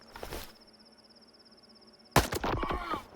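Two sharp, loud rifle gunshots from the Grim S-14 or S-15 in the video game STALKER 2, about two seconds apart, each with a brief crackling tail, over a faint high-pitched electronic tone.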